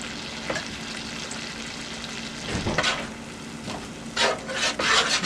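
Half and half poured into a pan of blackened garlic salmon and shrimp, setting off a steady frying hiss with stirring scrapes and a few louder bursts of sizzle toward the end, close and clear with no talking.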